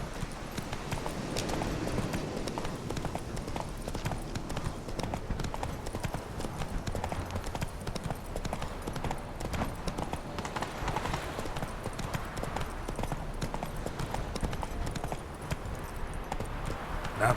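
The horse Roach galloping in The Witcher 3, a fast, steady rhythm of hoofbeats clip-clopping throughout with the rush of movement behind, and brief talk faintly underneath.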